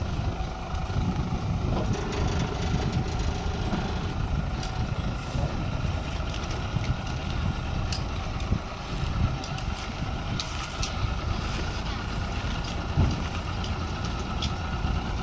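A large six-wheel concrete mixer truck rolls in slowly with its engine running low and steady under wind, rumbling continuously without speech.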